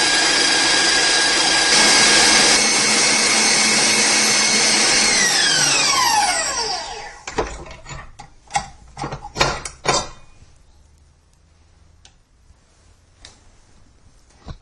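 An electric stand mixer whips egg whites with granulated sugar toward stiff peaks, a loud steady motor whir that winds down around six seconds in, followed by several sharp clicks and knocks as the bowl is handled.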